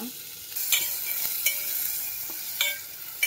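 Sweetened bilimbi goes into a pan of curry and gets stirred, with a steady sizzle underneath and a few scraping strokes of a spoon against the pan, close by.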